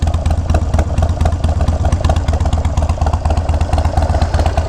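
A Harley-Davidson Sportster fitted with slip-on exhausts revs up close by, its engine throbbing with a loud, steady lumpy pulse throughout.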